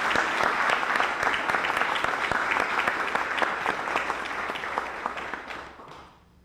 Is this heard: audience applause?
yes